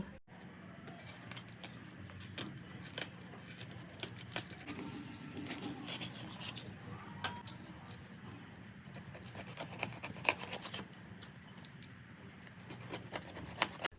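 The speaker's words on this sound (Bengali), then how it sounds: "এবার মাছটিকে পিস করে নেব।" A knife cutting a cleaned, headless snakehead fish into pieces, with irregular sharp clicks and taps of the blade against the board over soft handling noises, close but faint.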